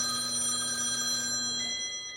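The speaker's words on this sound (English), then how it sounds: "phones never stops ringing" A telephone bell rings continuously with a bright, buzzing electronic trill, steady and fairly close, fading slightly near the end.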